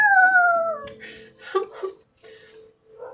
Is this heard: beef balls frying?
no